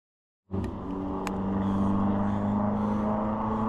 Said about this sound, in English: unnecessarily revving their little rat truck